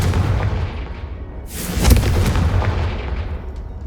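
A Confringo fire spell explodes in a Harry Potter video game: one sudden loud booming blast about midway, its deep rumble fading slowly over a low background hum.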